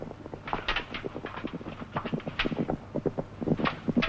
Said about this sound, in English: Horses at the gallop.